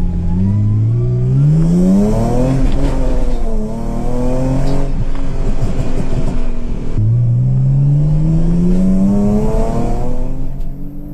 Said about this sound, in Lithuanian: Tai va, kaip matėt, mašina važiuoja